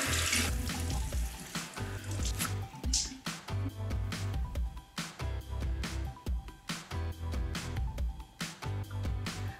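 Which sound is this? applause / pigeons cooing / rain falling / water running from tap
water running from tap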